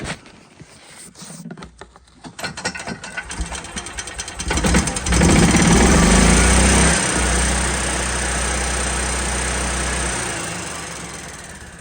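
A gas EZGO golf cart engine with its governor bypassed climbs from rough idle and revs up to a loud, steady high-RPM roar that holds for several seconds close by.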